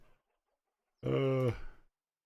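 A single chicken in the video game Vintage Story gives a short, loud clucking squawk, close up, after a moment of near silence.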